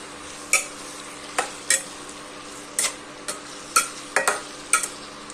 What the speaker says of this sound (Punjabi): ਪਿਆਜ਼ ਤੇ ਲਸਣ ਚੰਗੀ ਤਰ੍ਹਾਂ ਫਰਾਈ ਹੋ ਗਏ